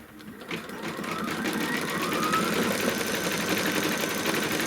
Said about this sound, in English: it's gonna stitch the tack down